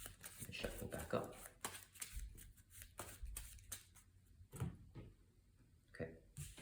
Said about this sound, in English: And shuffle back up.